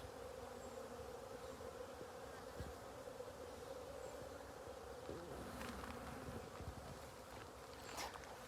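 A dense, steady buzzing of many bees close by at a hive, continuous throughout with a few louder passes of individual insects near the end.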